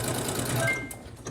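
A Janome sewing machine with a circular sewing attachment stitches a wide 9mm stitch on holiday décor fabric, a brief, close, steady mechanical whir that slows and stops near the end, with a faint voice underneath.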